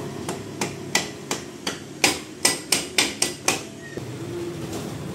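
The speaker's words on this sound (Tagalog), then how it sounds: "O ngayon tayo ng rubber mallet." A rubber mallet pounds during a brake repair job: about a dozen sharp, close blows in an uneven rhythm, loud and alone over faint workshop background.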